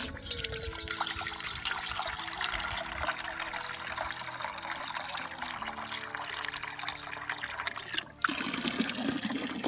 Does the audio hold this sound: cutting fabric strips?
no